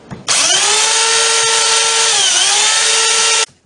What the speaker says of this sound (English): I sand down the pocket hole plugs with my belt sander.